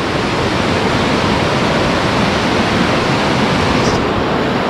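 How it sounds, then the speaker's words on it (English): Ledge Falls, a small cascade in a Maine state park, gives a loud, steady, broadband rush of tumbling water that fills the scene without pause. "This is their idea of a waterfall."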